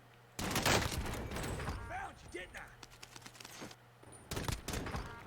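Bursts of rapid gunfire from a Call of Duty Warzone match, two loud volleys with shorter shots between them, sounding close, with a player talking over parts of it.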